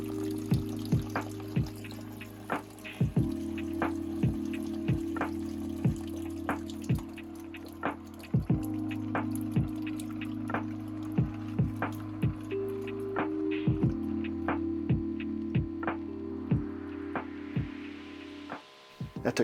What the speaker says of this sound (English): That took 2 minutes for this pump to remove the half gallon of water from one side to the other